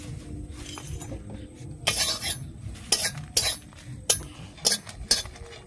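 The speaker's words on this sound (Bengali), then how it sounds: "এবার 3টা শুকনো লঙ্কা ভেজে নেব।" Three dry red chillies are fried in a pan, with several sharp metallic clinks and scrapes of a utensil against the pan over a faint low sizzle, close and intermittent.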